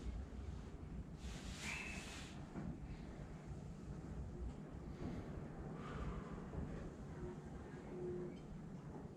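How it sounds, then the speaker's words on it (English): Strong wind blows outdoors during rifle load testing, a steady, loud rushing roar that buffets the microphone throughout, with a few brief louder gusts and no voices. "I don't know if you guys can hear that wind, but it is something."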